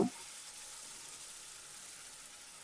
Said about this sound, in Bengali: তেজপাতা ও জিরেটাকে একটু ভাজা ভাজা করে নেব